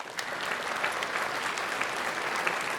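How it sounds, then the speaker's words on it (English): Audience applause at a medical round-table event, steady dense clapping from a room full of people, sustained and even throughout. "Let's give him a round of applause"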